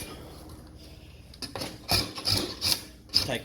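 Rasp filing down an Osage orange bow limb during rough profiling, a series of scraping strokes that grow louder and more forceful, close up and without speech.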